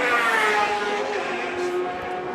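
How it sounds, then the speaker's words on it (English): A Matra race car engine at the Goodwood Members' Meeting sounds as a loud, sustained high-pitched wail with steady harmonics, passing through the chicane, continuous across the whole moment. "Listen to the glorious Matra sound"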